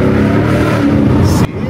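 A loud car engine revving hard and droning steadily with voices mixed in, then cutting off abruptly near the end.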